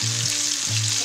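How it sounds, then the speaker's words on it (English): Carrots, snap peas and mushrooms stir-frying with shrimp in a hot pan give a loud, steady, close sizzle with a faint stirring rustle, no talking. "I'm going to toss in the carrots, snap peas, and mushrooms"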